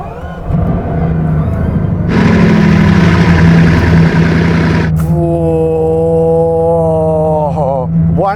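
A Bugatti Divo's 1,500 horsepower W16 engine idles loudly nearby, then bursts into a hard rev. Its pitch climbs and falls in sweeping harmonics as it settles back toward a rumbling idle.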